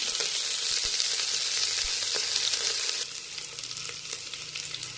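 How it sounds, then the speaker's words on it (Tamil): Ginger, chili, curry leaves and cashews frying in hot oil for millet pongal, a steady close sizzling hiss that drops slightly in loudness partway through, with no talking. "கட் பண்ணி வச்சுருக்க இஞ்சி, மிளகாய், கருவேப்பிலை, முந்திரி அதெல்லாம் போட்டு நல்லா வறுத்துடலாம்"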